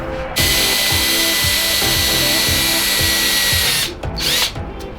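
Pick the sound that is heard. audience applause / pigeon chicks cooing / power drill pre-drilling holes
power drill pre-drilling holes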